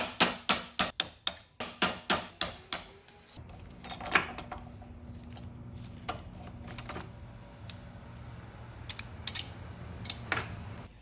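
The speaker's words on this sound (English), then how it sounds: "you're gonna need to get a little punch here and hammer this out" A quick run of sharp metallic taps in a steady rhythm as a punch hammers a pin out of a Lamborghini Gallardo transmission, then scattered lighter knocks and clinks over a low hum, close up.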